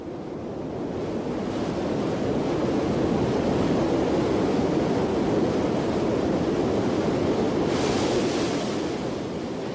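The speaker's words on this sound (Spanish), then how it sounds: "El agua se precipita a través de 3 cascadas, una a continuación de la otra, y se estrella" Krimml waterfalls in the Alps, water plunging down three successive cascades, heard as a dense, constant roar of crashing water that swells and holds steady, with no voices present.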